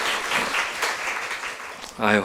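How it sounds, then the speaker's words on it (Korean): A church congregation applauds to congratulate a bride and groom during a Sunday service, a broad wash of clapping followed by a voice speaking near the end. "큰 박수로 축하하겠습니다."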